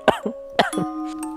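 A zombie in a film coughs and clears its throat in a few short, rough bursts, close and fairly loud against quiet surroundings.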